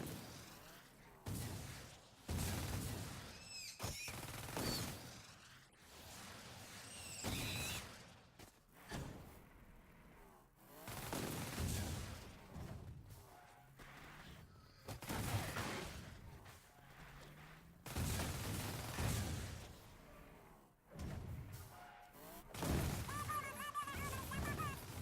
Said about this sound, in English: Is it just me, or does the vehicle's weapon sound much more awesome